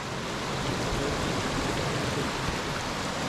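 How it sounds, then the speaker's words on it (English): Steady rushing snowmelt water, a continuous broadband wash like a small creek or cascade flowing out from under snow nearby in Glacier National Park, with no voices. "it's creating these beautiful waterfalls, the creeks under the snow, comes out from under the snow"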